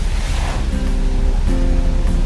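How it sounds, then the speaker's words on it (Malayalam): Steady rushing, surging water noise as a car drives through a flooded road in heavy rain and thunder, continuous and fairly loud throughout. "നല്ല ഇടിയും മഴയും, റോഡിൽ ഫുള്ള് വെള്ളത്തിലൂടെ വണ്ടി ഇങ്ങനെ പോയിക്കൊണ്ടിരിക്കുകയാണ്."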